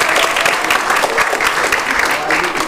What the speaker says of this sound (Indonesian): ya tepuk tangan dong buat MC